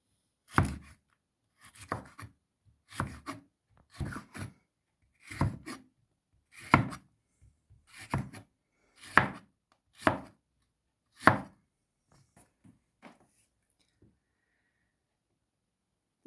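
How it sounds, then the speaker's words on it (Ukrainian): A knife slices bell peppers into thin strips on a board for a preserved winter salad with peppers and cucumber: about a dozen crisp, rhythmic cuts close by, each in a short burst, then quieter taps near the end. "отакими смужечками тоненькими нарізаємо перчик"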